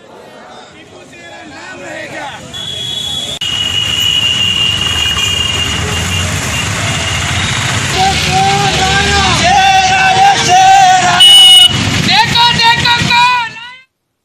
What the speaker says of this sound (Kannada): ಬಳಿಕ ವಿಜಯಪುರ ನಗರದಲ್ಲಿ ಟಿಪ್ಪು ಪರ ಘೋಷಣೆಯನ್ನು ಹಾಕುತ್ತಾ ಸಮಿತಿ ಕಾರ್ಯಕರ್ತರು ಬೈಕ್ ಜಾಥಾವನ್ನು ನಡೆಸಿದರು.